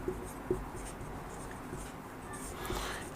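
Handwriting notes during a history lesson, faint scratchy pen or chalk strokes with a couple of sharp taps near the start, quiet and brief.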